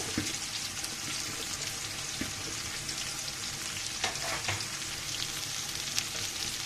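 Thin slices of bitter gourd sizzle steadily in hot oil in a pan, a continuous close crackling hiss with occasional sharper pops and stirring clatter, no voices.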